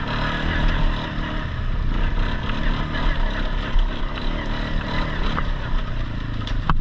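Four-wheeler ATV fitted with 29.5-inch Outlaw tires riding through wooded trails, its engine droning steadily and loudly throughout with rough, continuous rumble and no pauses, close to the rider.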